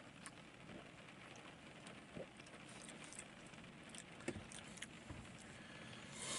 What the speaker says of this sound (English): it's a cold day, rain and so forth, condensation